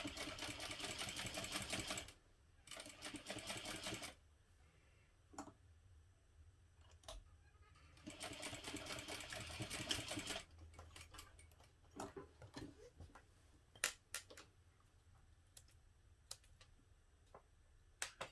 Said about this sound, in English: using an 1/8 inch seam allowance still, sew back down the other side